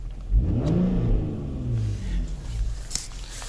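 An Infiniti car engine starts and revs up close, a loud rising rumble that settles into a steady idle hum, with a faint click near the end.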